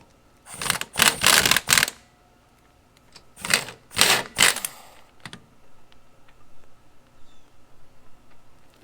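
An impact wrench fitted with a chrome socket hammers on the lug nuts of a Nissan Armada in two loud rattling bursts, each about a second long, followed by fainter clicks and handling noise.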